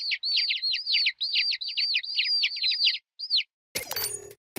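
High, bright chirping of baby chicks in the game You Don't Know Jack, a quick run of repeated peeping calls in tight clusters, followed by a short burst of other game noise at the end.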